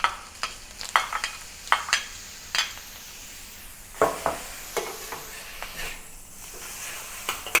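Garlic and mushrooms stir-fry in a hot pan, a steady sizzle broken by repeated sharp scrapes and clatters of the spatula against the metal, all close and with no voices.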